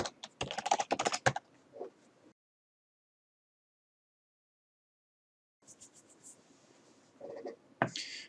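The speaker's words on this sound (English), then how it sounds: "type sudo apt-get install VNC realvnc-vnc-viewer." Fast typing on a computer keyboard while entering a Linux install command, a dense burst of clicks followed by silence, then scattered keystrokes and a final sharp tap, close and fairly quiet.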